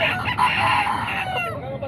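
A rooster crows once, loud and close, at a busy chicken market in Bocaue, the call drawn out over nearly two seconds against background bustle.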